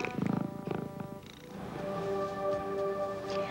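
An overweight indoor house cat purrs, a close, soft rhythmic rumble with a few breathy pulses at first, settling into a steady drone on its own.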